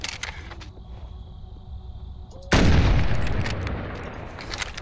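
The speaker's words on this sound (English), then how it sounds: "it's loud, satisfying shot off with the rifle" One sharp, loud sniper rifle shot in a Siberian expedition video game, bursting out of quiet ambience and rolling off into a long echoing tail.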